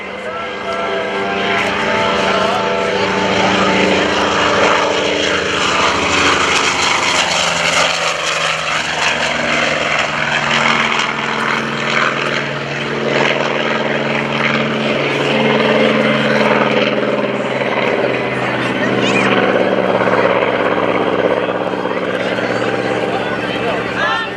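A loud Douglas A-1 Skyraider single-engine propeller attack aircraft roars steadily on its takeoff roll at Quonset Point, a dense, powerful drone that holds its intensity throughout.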